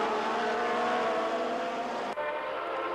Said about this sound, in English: So far, there are no surprises with Miaskiewicz and Kroll leading the field in their big 5-liter Frissbes